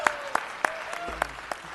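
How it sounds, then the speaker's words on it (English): A few sparse hand claps from a small audience at a city council meeting, about six distinct claps spread over under two seconds, moderately close and not loud. "Let's give Ernestine a round of applause."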